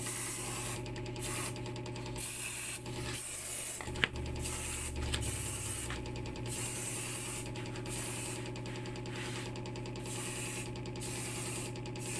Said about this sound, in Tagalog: Mag-spray tayo para sa mga lamok o kaya insekto.